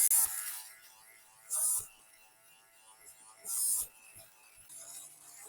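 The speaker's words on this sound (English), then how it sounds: "So I've got a lint shaver thing, which I'll give that a try first now" A handheld lint shaver works over car seat fabric, lifting off fuzz in short, close buzzing bursts that start and stop four times, with quiet gaps between them.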